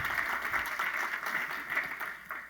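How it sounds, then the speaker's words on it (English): Steady applause from a conference audience at a closing ceremony, a dense wash of many hands clapping at once, somewhat distant and even in level before trailing off at the end. "So a huge round of applause to our speakers."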